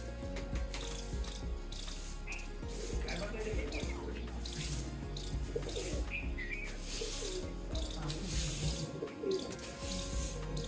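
Doves coo softly amid a busy outdoor chorus of chirping birds at the Swaminarayan temple grounds in Sarangpur, with steady background noise throughout.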